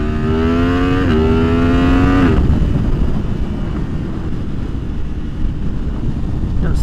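A 2023 Yamaha MT-10 with its AIS deleted revs up in a rising howl while being ridden, then drops away into loud, steady wind rush and road roar.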